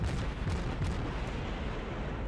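Naval gunfire from a Baltimore cruiser in World of Warships, a dense rumbling roar of a salvo with low booms, loud and continuous over the short stretch.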